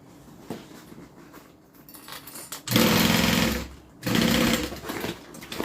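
A sewing machine stitches a custom order in two loud, steady bursts of rapid mechanical whirring, each lasting about a second, with quieter handling noise and pauses before and between them, close up and without speech.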